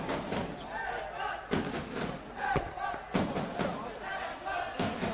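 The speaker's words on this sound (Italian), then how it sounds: "Sentiamo un bel tifo dei giocatori giovani di casa." Indoor crowd shouting and chanting in rhythmic bursts at a Serie A handball match, with thumps and slaps echoing in a large hall, fairly distant and muffled.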